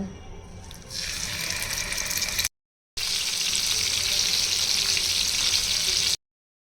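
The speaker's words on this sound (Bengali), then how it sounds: "এখন গরম তেলে মাছগুলো হালকা করে ভেজে নেব" Fish pieces fry lightly in hot oil with a dense, steady sizzle that swells louder after the first second. A short silent gap splits the sound before the frying resumes strong, with no voices present.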